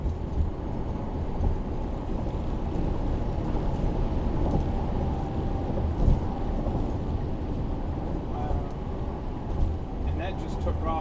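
A Tesla Model Y Long Range accelerates hard, a steady low rumble and road roar from inside the cabin that holds constant throughout, with a person speaking over it.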